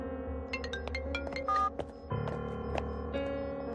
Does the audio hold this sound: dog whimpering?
no